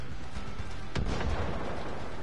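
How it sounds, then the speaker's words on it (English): A single heavy explosion booms in the middle of Far Cry 5 gameplay, a sharp burst followed by a rumbling tail over steady game ambience. "Explosion."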